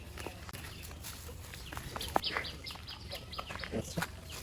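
Chickens cluck in short, scattered calls, faint and somewhat distant, with light rustling and ambient outdoor noise in a vegetable garden.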